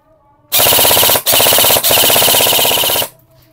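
An LT 32TA10 G3 airsoft rifle with an HFC 201DE gearbox fires on full auto, loud and close: a rapid mechanical rattle in three bursts, the first two very short and the last about a second long.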